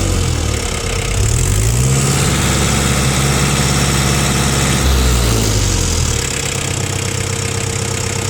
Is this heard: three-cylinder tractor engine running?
yes